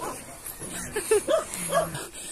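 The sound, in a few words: dog barking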